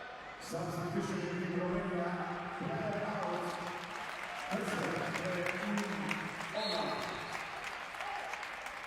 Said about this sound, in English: Nice hand from the crowd.